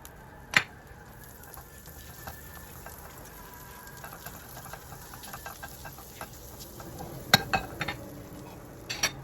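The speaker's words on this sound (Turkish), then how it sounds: "Tavamızı bir peçete yardımıyla silerek çok küçük bir parça tereyağı atalım." A small piece of butter melts in a pan while making künefe: a soft, steady sizzle with scattered light clinks and scraping pan sounds, and a few sharper knocks near the start and end.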